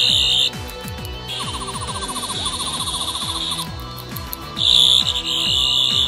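Doctor Who sonic screwdriver prop replica from the Ninth and Tenth Doctor era playing its electronic effects: a shrill warbling tone over a fast repeating descending pulse, switching to rapid chirps midway, then returning to the piercing whine, fairly close and unbroken.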